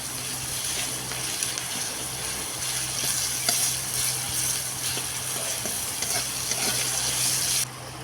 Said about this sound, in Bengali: সেই একই তেলের মধ্যে দিয়ে দেবো আমি কিছুটা পরিমাণ জিরে আর দুটো পেঁয়াজ কুচি